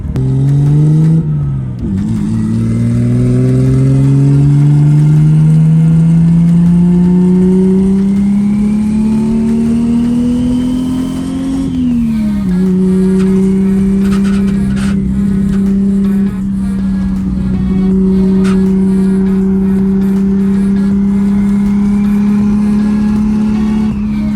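Nissan R32 GTR cruising on the road, heard from inside as a loud, steady engine drone that rises gradually through the gears, with a brief dip and shift around the midpoint, continuous throughout with no talk.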